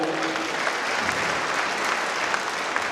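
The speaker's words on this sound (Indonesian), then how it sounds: "Kita beri aplaus yang meriah." An audience at a live talk event in Kupang gives dense, sustained applause, loud and steady throughout.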